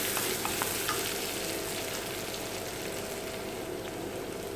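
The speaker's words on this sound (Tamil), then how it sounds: "வெங்காயம் நல்லா வதங்கணும்." Onion with ginger and garlic sautés in a pan for ghee rice, a soft, steady sizzle and crackle heard up close with faint stirring and no talk.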